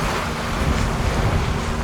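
Wind rushes steadily against the window of a cruise boat speeding along off the Baja coast, a broad, breathy roar with faint buffeting and no voices.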